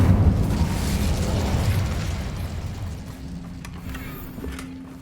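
Incendio fire spell cast in a wizard video game, a loud explosive whoosh of flames that swells at the start and slowly fades over several seconds, followed by a faint tonal hum.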